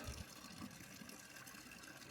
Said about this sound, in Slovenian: Malo bo treba vodne zaloge napolniti